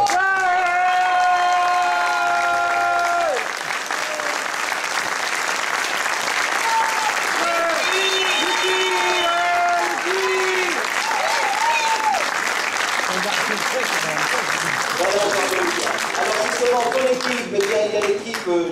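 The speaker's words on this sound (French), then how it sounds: "je vous demande de l'applaudir comme il se doit" At a talent show finale, a crowd claps in sustained applause with occasional cheers. Singing and voices carry over the top throughout, and the applause stays loud and continuous.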